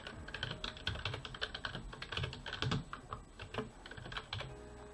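Someone types a hard drive name on a computer keyboard, a close run of quick, irregular key clicks in short bursts with brief pauses, no voices.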